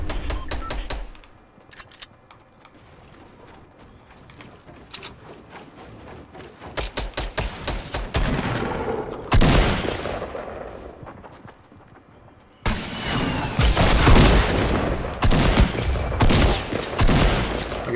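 Gunfire in the video game Fortnite during a Battle Royale duos match, with rapid bursts of loud, close shots that build into dense sustained volleys, without speech.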